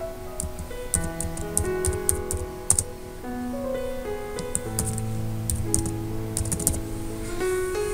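Fingers tap out a heading on a computer keyboard in quick, uneven bursts of light clicks, close and crisp, over a soft sustained tonal background.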